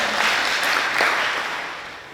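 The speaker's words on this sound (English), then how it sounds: "It's probably worth giving him a little clap" Brief burst of audience applause in a legislative chamber during an island state debate, a broad steady clatter of clapping that swells slightly and then tapers, with no talking over it.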